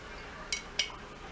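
A spoon clinks twice against a dish while olive oil is served at lunch with oven-baked salmon and boiled green beans; two quick, light metallic taps half a second apart over a quiet kitchen background.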